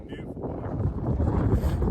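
Strong wind gusts buffet the microphone in an open outdoor field during metal detecting, a continuous low roaring rumble that swells slightly toward the end, with no voices.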